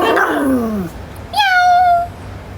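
A cat gives two close, loud meows, the first drawn out and falling, the second rising and then sliding down, with a short pause between them.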